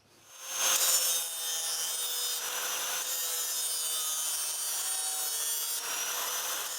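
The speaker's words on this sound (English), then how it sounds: "I have ground the face of the blade down until I've pretty well removed most of the nicks on the cutting edge" An electric grinder works the cutting edge of a lawnmower blade, giving a steady, loud abrasive whine and rasp that builds up quickly and then holds evenly throughout, with no talking.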